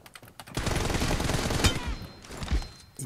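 Rapid gunfire bursts in the mobile battle-royale game PUBG Mobile, a sustained loud volley with sharp heavy shots standing out near the middle and end, landing headshots.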